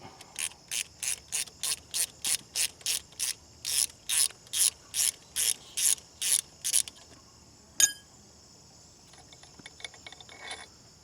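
A hand ratchet loosening bolts on a Grand Am engine during a teardown, clicking in a steady run of about eighteen short, sharp bursts close up, followed by a single metallic clank and quieter fiddling, with no talking.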